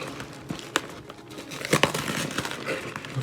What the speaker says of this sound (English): I'm just going to rip the box.